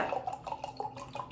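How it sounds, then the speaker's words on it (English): Tap water pours into a glass jar, a close, bright gurgling stream with rhythmic splashy pulses as the jar fills. "I'm gonna fill my glass jar."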